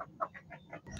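Backyard chickens give a quick series of soft, clipped clucks, five or six short calls within a second, faint and fairly close with no talk.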